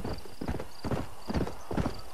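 Rhythmic clip-clop of horse hooves at a steady trot, with a brief whinny mixed in, fairly close and moderately loud, in the video game Red Dead Redemption.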